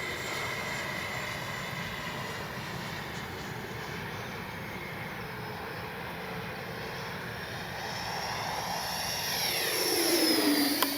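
A Freewing F-22 70mm electric ducted-fan RC jet roars steadily overhead, its continuous whine and rushing air swelling louder near the end as it passes close by.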